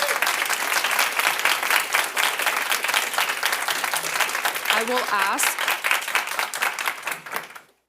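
Applause from attendees at a Florida House subcommittee hearing on House Bill 999, a steady dense clapping across the whole stretch, with a brief voice speaking over it before it fades out at the end.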